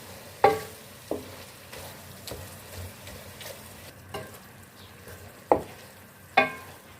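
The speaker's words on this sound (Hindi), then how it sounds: "अब इसमें हम 2 टेबलस्पून दही का डाल लेंगे और इसको हम अच्छे से मिक्स कर लेंगे।" A spoon stirs kachnar keema with two tablespoons of yogurt in a pan, a soft sizzle running underneath while a handful of sharp scrapes and taps strike the pan at irregular intervals.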